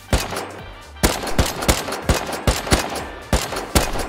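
Gunfire in the survival game Rust cracks out as sharp, loud individual shots in an irregular rhythm, roughly a dozen over a few seconds, with no talking.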